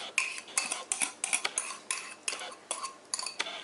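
A utensil clinks and scrapes against a pan in quick repeated strokes while béchamel mixture is poured into and stirred through hot milk, close and fairly quiet with no voices.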